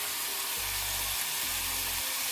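Dry vermicelli roasting in a pan gives a soft, even hiss close by, with two low rumbling stretches of stirring or scraping against the pan; no talking.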